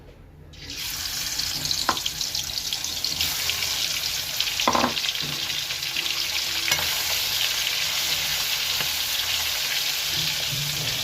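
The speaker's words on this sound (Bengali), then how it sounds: "তেলটা খুব ভালোভাবে গরম হয়ে গেছে মাছগুলো ভেজে নিচ্ছি" Small fish dropped into hot oil, a loud sizzle that starts abruptly and holds steady and close, with a few sharper crackles and stirring clicks.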